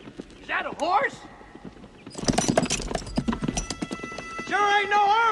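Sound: horse hooves clip-clopping and neighing

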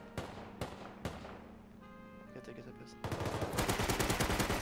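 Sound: gunfire in the video game Rust

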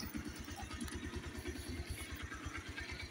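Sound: motorcycle engine idling after stopping

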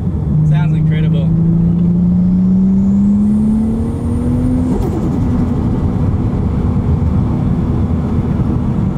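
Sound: 800HP 2JZ-swapped Toyota Altezza engine revving, blow-off valve

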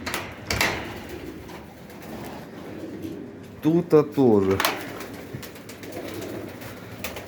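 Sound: pigeons cooing in a dovecote

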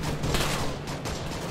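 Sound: gunfire bombardment in video game Arma 3

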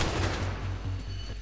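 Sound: gunfire from video game Battlefield 3

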